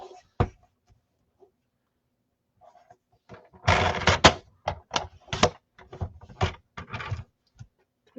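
Paper for handmade card making being cut on a trimmer at a craft table: a single sharp click, then a cluster of crisp scraping and clacking bursts, close and fairly quiet, with no talking.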